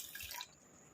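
Water is poured into a pot of rice before it goes on the stove to boil, a close splashing pour for about half a second, then only faint dripping.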